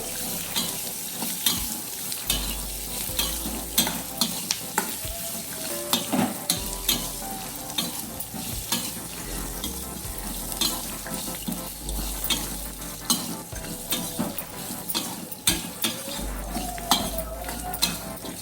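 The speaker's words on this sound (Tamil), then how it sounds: "இப்போ இது கூடவே இஞ்சி பூண்டு வெங்காயம் ஆட் பண்ணிக்கலாம். ஆட் பண்ணி நல்லா வதக்கி விட்டுக்கோங்க." Ginger, garlic and onion sautéing with chicken in a pan, with steady sizzling and repeated scraping of a spoon across the pan throughout, close and fairly loud, with no talking.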